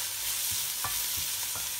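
A slit green chili is sautéed with fried onion in a pan, giving a soft steady sizzle with a few light scraping stir strokes, quiet and close.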